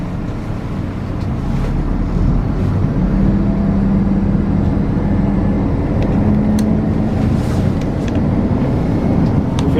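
A Scania truck's engine drones loud and steady as the gas pedal is pressed and it pulls away, a broad low rumble with wind buffeting the microphone and no talking.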